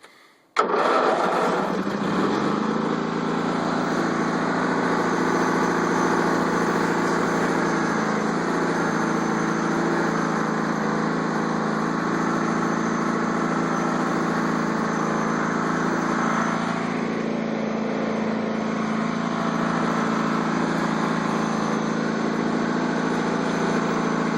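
A Sears FF 18 lawn tractor engine cranks and catches, then settles into a steady, loud idle that runs continuously up close with little variation.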